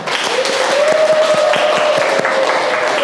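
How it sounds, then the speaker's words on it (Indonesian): Audience applause for student presentation groups at a teaching-certification session, a steady dense wash of clapping that fills the whole moment at close range, with a faint sustained tone running through it. "kita sekali lagi kasih aplaus untuk seluruh kelompok"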